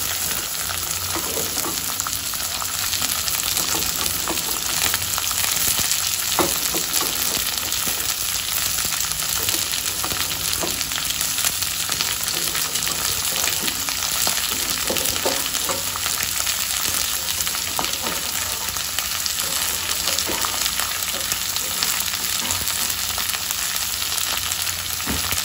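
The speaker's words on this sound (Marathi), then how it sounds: "आपण हे छान भाजून घ्यायचं तेलावरती मस्तपैकी" Ghevda beans roast with asafoetida in hot oil, producing a loud, continuous crackling sizzle up close with faint stirring scrapes, steady for the whole stretch and with no talking.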